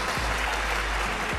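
A brief patch of audience clapping at a live evening show, a dense, even spatter of hand claps lasting about a second.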